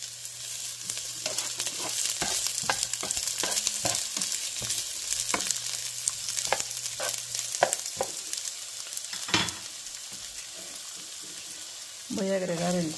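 Chilaca peppers and half-moon onion slices fry in oil in a pan with a steady crackling sizzle, broken by scraping stirs and clinks throughout.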